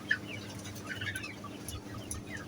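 Faint, steady clucking of chickens housed eight to a room in a poultry shed, with soft rustling and occasional chirps over low background noise.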